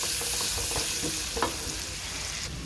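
White onion sizzles in a hot pan while a utensil stirs it, giving a steady frying crackle broken by scrapes and light knocks against the pan. No one speaks.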